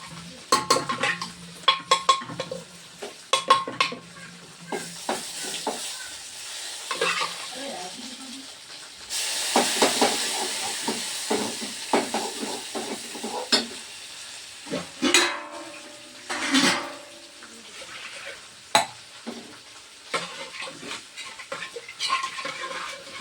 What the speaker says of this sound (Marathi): लाल मिरच्या टाकत आहे, बघू शकता.